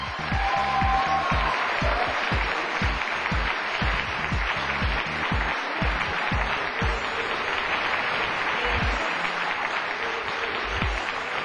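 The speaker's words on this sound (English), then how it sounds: "let's give every one of these award winners a big round of applause" An audience at a Glendale community meeting applauds award winners with sustained, fairly soft clapping from a roomful of people that holds steady from start to finish.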